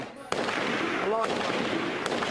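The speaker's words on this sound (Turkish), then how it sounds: "sokaklardan silah sesleri ve binalardan siyah dumanlar yükseliyor" Gunfire in the city streets of Damascus during street fighting: a sharp crack, then loud, dense continuous bursts and rumble, with a voice briefly audible in the mix.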